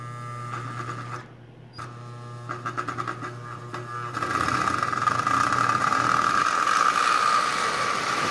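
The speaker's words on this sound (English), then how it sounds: "Going to take it around, and the E-unit is actually working on this engine. So I think we're pulling 18 cars." A Marx 999 toy locomotive with a working E-unit starts up on its track pulling a long string of cars, humming and clicking at first, then settling into a steady close whirring rumble of motor and wheels.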